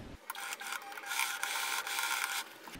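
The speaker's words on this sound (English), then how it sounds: "I'm going to sew just simple seam here." A sewing machine runs a simple straight seam on a handbag, a rapid, even mechanical stitching chatter lasting a few seconds, close and fairly quiet, with no talk.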